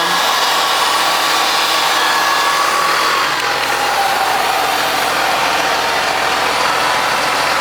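John Deere planter fans whine steadily beside a running tractor engine, a loud, constant roar with no pauses and no talking.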